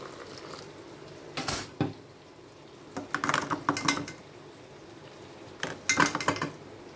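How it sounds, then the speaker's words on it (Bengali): Ground mustard and spice paste is strained through a metal sieve with water into a bowl for a Bengali onion-mustard fish curry, giving clinking and scraping bursts of utensil against sieve with splashing water, in several separate episodes. "এখানে আমি ছেঁকে নেব ছিবড়াটা বার হয়ে যাবে"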